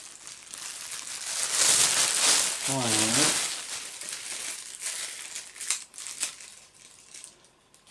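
A cellophane bag crinkles and rustles continuously during the unboxing of a Fractal Design Define Mini micro-ATX PC case. The handling is close and fairly loud and tapers into sparse crackles and taps.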